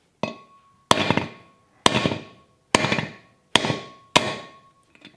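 A hammer strikes wheel studs on a 12v Cummins truck, with an old nut threaded on to protect them. Six sharp metallic blows land about a second apart, each ringing briefly, with no talking.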